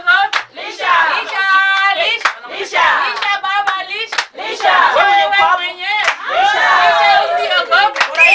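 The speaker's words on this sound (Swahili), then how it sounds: "Haya, tupige makofi anapolisha wazazi wake." Audience applause at a graduation celebration while the graduate feeds cake to her parents, bursts of clapping mixed with crowd voices and an amplified speaker talking over it throughout.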